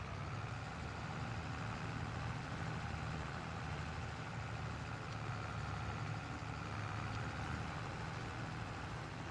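A JCB vehicle idles in Farming Simulator 22 with a steady, low, even engine rumble that holds without change throughout.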